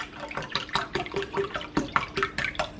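Chicken stock pours into a small stock pot for cooking quinoa, heard as a series of close, irregular splashing glugs and spatters with uneven pulses of liquid, and no voices.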